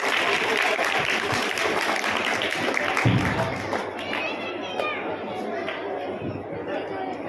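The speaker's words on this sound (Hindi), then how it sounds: "जोरदार तालियों के साथ स्वागत" Audience applause greeting MLA Sanjeev Beniwal at a public foundation-stone and inauguration event, loud sustained clapping mixed with crowd chatter that gradually eases off.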